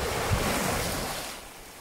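Sea waves wash onto the shore in Mauritius, a close, steady rushing surf with wind noise that gradually eases.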